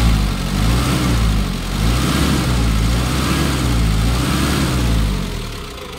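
Hyundai H-100 van engine running steadily after an overhaul and oil pump replacement, a continuous mid-pitched idle with a slight rise and fall in revs, close and fairly loud with no talk.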